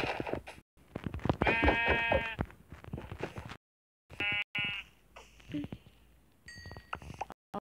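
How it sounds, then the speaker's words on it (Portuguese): Two sheep in the Minecraft video game bleat in a series of loud, wavering cries, first as a long run and then as a few shorter calls after a silent gap, with faint game background noise between them. "Olha só, aqui tem duas ovelhas aqui."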